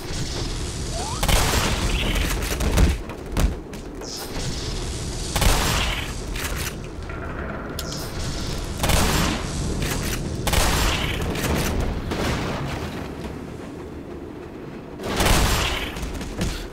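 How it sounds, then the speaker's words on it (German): Repeated gunfire bursts in the video game Black Mesa, fired from a moving vehicle, loud blasts recurring every few seconds over a steady rumbling engine and background din. "Ich finde es lustig, im Vorbeifahren zu schießen."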